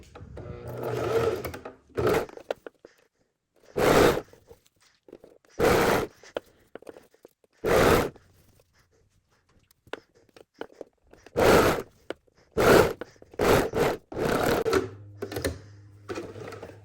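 Sewing machine stitching a seam over piping on pajama pants, running in short separate bursts with pauses between and some handling noise, close and clear.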